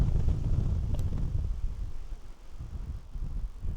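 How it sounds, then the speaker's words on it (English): Strong wind buffets a microphone on a foothills hiking trail near Boulder, a loud low rumbling roar that surges and eases in gusts, with no one speaking. "I'm getting blasted by the wind"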